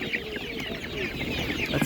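Several chickens clucking and chirping together close by, a busy overlapping chatter of short calls.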